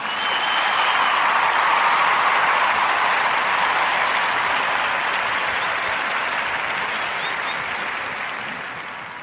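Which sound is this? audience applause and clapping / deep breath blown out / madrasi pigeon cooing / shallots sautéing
audience applause and clapping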